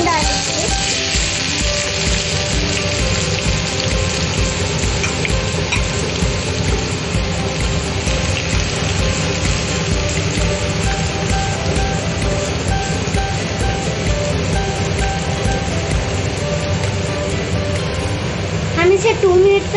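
Onions sizzle and fry in hot oil, a steady loud crackling hiss that continues without pause throughout.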